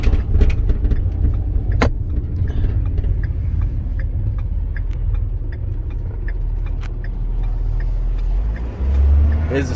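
A 2011 Altec AT200 bucket truck with a 6.7 diesel engine pulls away and accelerates, its steady low engine drone running loud and close for the whole stretch, with a brief surge near the end.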